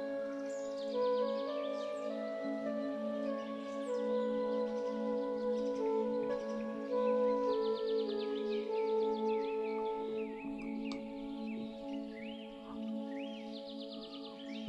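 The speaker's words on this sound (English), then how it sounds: "There's little birds in the background." Small birds chirp and tweet in the background of the OCTOMAZE puzzle game, with high repeated trills recurring over a steady droning music bed at even loudness throughout.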